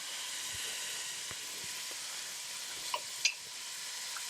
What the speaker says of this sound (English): while our sausage is browning with aromatics